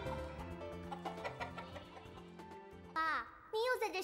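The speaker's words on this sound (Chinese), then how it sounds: "这个时候啊，胖胖的老母鸡也跟着起来" A plump old hen clucks in the morning, a burst of sharp rapid clucks near the end following a stretch of background music, close and fairly loud.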